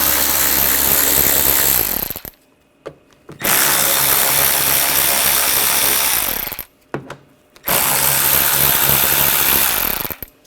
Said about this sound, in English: Take these screws out. We're going to use a 8mm socket.